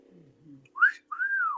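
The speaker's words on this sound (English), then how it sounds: "You know that's called a wolf whistle." A sharp two-note wolf whistle, a quick rising note followed by a longer falling one, whistled clearly and alone after a faint low murmur.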